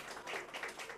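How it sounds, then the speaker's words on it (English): Brief burst of audience applause at an arts organization's artist and curator talk, soft and distant-sounding with a dense, even patter of clapping. "Wow, thank you for that applause"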